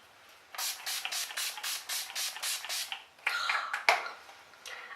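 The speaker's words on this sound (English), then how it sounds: "use some Skin Divania, the makeup finishing spray in Oil Control" A makeup finishing spray for oil control mists in about ten quick, evenly spaced pumps, close and crisp, followed by a few softer rustles and handling clicks.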